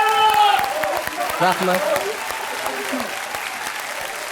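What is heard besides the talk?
applause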